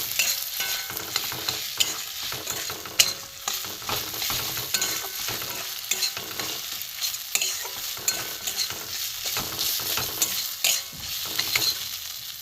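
Semolina and grated potato frying in a pan while being stirred, a continuous crackling sizzle broken by repeated scraping strokes of the spoon, close and steady with no voices.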